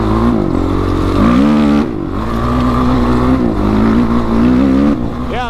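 Off-road vehicle fitted with a rocket exhaust and carbon fiber tip at an OHV park near Lake Havasu, its engine running close and loud with a steady, rumbling tone that rises briefly near the end.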